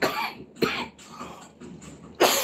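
A woman lets out several dry coughs in a row, close and fairly loud, with short breathy pauses between them and a sharper final cough.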